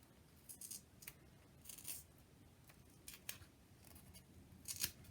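Scissors snip through black foam tape while a shaker card is being made, giving a few sharp, close cuts spaced over a few seconds against a quiet room background.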